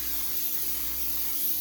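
A can of Pam baking spray with flour releases a steady, close hiss as cookie sheets on parchment are greased, one unbroken burst with no voices.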